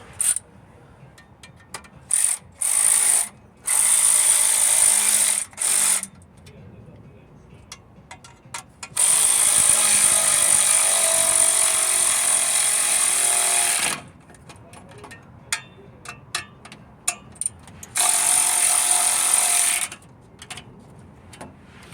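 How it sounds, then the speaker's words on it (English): A ratchet and hex bit drive in clutch bolts on a Mercedes diesel van, worked on the floor; repeated bursts of mechanical whirring and clicking, some long, some short, fairly close. "we're going to use a ratchet for this job"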